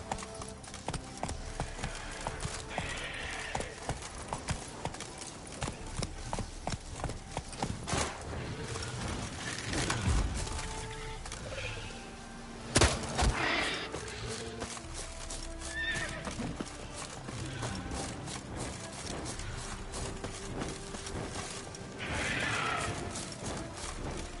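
Roach the horse in The Witcher 3 trotting and galloping with a steady run of hoof clip-clops, broken by several whinnies and snorts, fairly close and carrying on for the whole stretch without talk.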